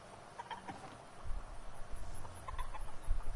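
A chicken in Fortnite makes a few short clucks, faint and set against a rumbling game background, with no speech.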